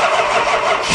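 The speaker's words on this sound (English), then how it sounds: "the starter's gonna give out on you!" Starter cranking on a 1976 Chrysler New Yorker engine, being started for the first time in 17 years, a loud, steady, close grinding churn that runs unbroken for a second.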